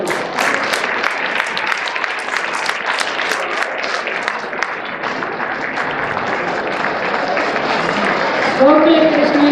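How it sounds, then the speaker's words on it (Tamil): An audience at a Tamil school's annual day graduation gives a big, steady round of applause, dense and continuous throughout, with a few voices rising near the end. "மக்களே, பெரிய கைத்தட்டல்"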